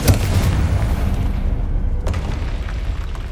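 A heavy, rumbling blast from the Incendio fire spell in Hogwarts Legacy, a deep sustained roar with crackling bursts, loud and close throughout.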